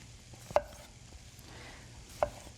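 Two sharp knife strokes on a cutting board as yellow and red tomatoes are sliced for nachos, spaced well apart and close up against a faint kitchen background, with no talking.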